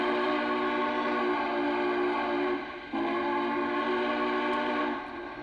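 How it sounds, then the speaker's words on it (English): A Lionel Union Pacific 4-12-2 model train sounds a sustained, chime-like steam whistle, held loud and steady with a short break in the middle and no talk. "We have a big boy whistle."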